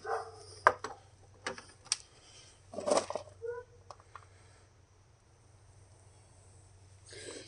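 Dogs bark and yip in a quick irregular burst of several sharp calls, some overlapping, then fall quiet against a low background hum.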